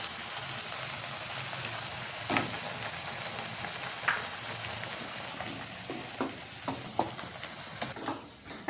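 Chopped capsicum fries in a pan, a low hissing sizzle with occasional spatula knocks and scrapes, growing busier with stirring clicks toward the end.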